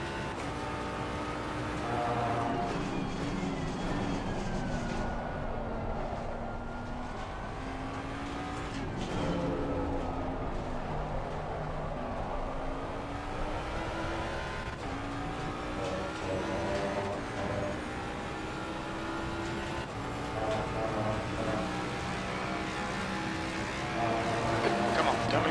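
Ferrari race cars in a racing video game: steady, loud engine whine rising and falling through gear changes, with other cars passing, under intermittent talk.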